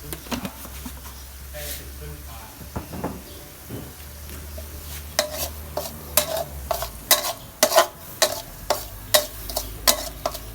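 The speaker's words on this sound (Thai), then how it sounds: "ผัดไปเรื่อย ๆ นะจ๊ะ" Rice stir-fried with shrimp paste in a pan sizzles softly while a voice talks at first, then gives way to loud, rhythmic scraping and stirring strokes close up.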